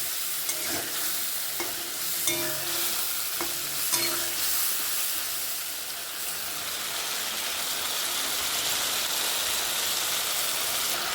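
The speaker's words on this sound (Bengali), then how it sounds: "ভালো করে মশলাটা কষে নেব" Masala spice paste stirred and fried in oil, a steady close sizzle with scraping stirs of a spoon against the pan, most distinct in the first few seconds before settling into continuous frying hiss.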